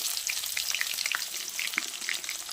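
Whole cumin, bay leaves and chopped onion fry in hot oil with a steady, dense crackling sizzle and scattered sharp pops, continuous and close with no talking.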